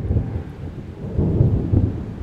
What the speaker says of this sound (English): As the first sprinkles of rain splashed onto the ground